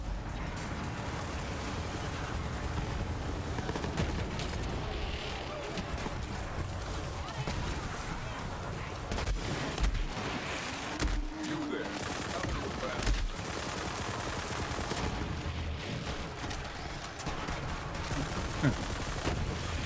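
Dense, continuous gunfire in the shooter game Borderlands 3, rapid shots and bursts rattling nonstop with players talking over the action.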